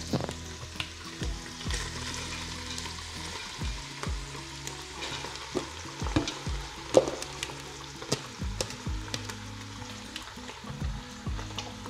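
Leek sizzles and crackles in a hot pan with minced meat, with occasional stirring scrapes and clatters of a utensil against the pan.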